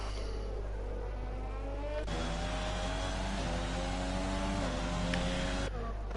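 Race cars roar around the Hungary circuit in a racing video game, steady engine drone with shifting pitch as a small field of about eight cars runs; engine tones change abruptly as gears and camera views switch, continuous and fairly loud.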